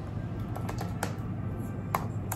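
A username being typed on a computer keyboard, a few distinct clicks spaced irregularly over a constant low hum.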